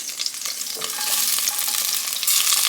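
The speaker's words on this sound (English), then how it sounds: "I'm going to go ahead and add my large onion. And I'm going to saute it on a medium-low heat" A large onion sautés on medium-low heat in the pan left after browning meat for chili, giving a steady bright sizzle that swells slightly near the end, close and continuous with no voices.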